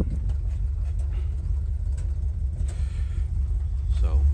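A 1960 Ford F100 pickup with a firm-shifting automatic travels down the road, heard from inside as a steady, close, low engine and road rumble with no pauses.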